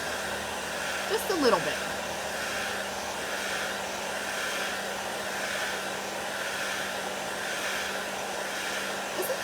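Heat tool blowing hot air to dry chalk paste on a craft project, a steady close whooshing roar held throughout, with a few short spoken words over it.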